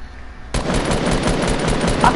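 Rapid automatic gunfire from the battle royale game Fortnite bursts in suddenly and continues as a loud, dense rattle of shots until the end.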